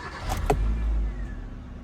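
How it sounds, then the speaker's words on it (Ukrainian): A car engine idles steadily with a low, even rumble, broken early by a couple of brief clicks. "машинка прогріта, музика включилась, працює."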